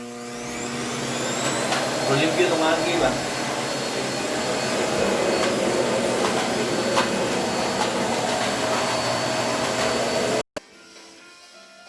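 A vacuum cleaner running in a home in Japan during a DIY haircut: a loud, steady whining roar throughout, with someone speaking over it, before it abruptly cuts off near the end.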